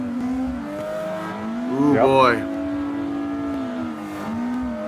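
Race cars drifting in Assetto Corsa, with steady engine drone and a rising, warbling rev and tire squeal near the middle, under people talking.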